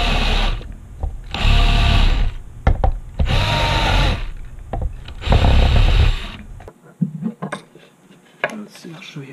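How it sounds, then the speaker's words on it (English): A power drill with a countersink bit bores into a UPS battery backup case in several short, loud whirring bursts, separated by pauses with clicks and light handling noises. "now let's get the countersink here."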